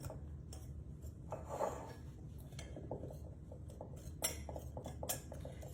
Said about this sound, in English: So I'm going to whisk all of those dry ingredients together